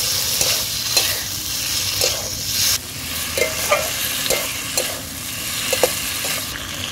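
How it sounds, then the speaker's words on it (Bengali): Boiled potatoes are sautéed with spices in a pan, a continuous close sizzle punctuated by regular scraping and clinking strokes of a spatula against the metal. "এবার আমি দিয়ে দেবো সেদ্ধ করে রাখা আলু। আলুগুলো দেওয়ার পরে কিন্তু বেশ খানিকের সময় আমি কষিয়ে নেব মশলার সঙ্গে।"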